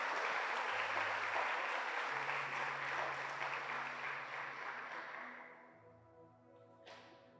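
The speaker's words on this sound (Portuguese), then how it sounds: "Se eu fosse você, eu aplaudia Jesus" A church congregation bursts into loud, sustained applause that fills the room, gradually thinning and fading toward the end with a few scattered claps and faint voices.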